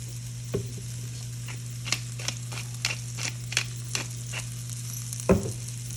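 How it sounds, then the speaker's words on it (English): Onions and celery fry in oil for shepherd's pie with a steady sizzle, broken by a series of sharp spatula clicks and scrapes against the pan at irregular intervals. "And then we're gonna add our onions and our celery."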